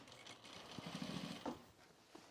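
A sewing machine stitches a hole closed on fabric booties, a faint, quick run of stitching with a soft buzzing rhythm for about a second amid low room noise.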